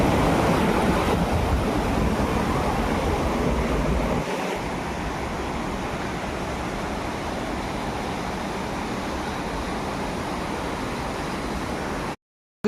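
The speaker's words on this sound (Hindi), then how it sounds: "और देखो पानी क्या बहाव है।" River water flows past stones in a forest setting, a steady, loud broadband rush and roar that continues evenly with no voices before cutting off abruptly.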